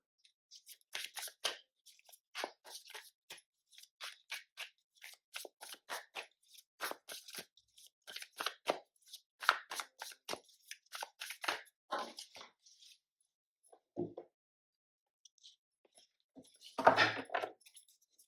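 Tarot cards being shuffled and drawn during a reading, a series of soft crisp card flicks and slides in quick irregular bursts, close and quiet, with a pause and a final louder riffle near the end.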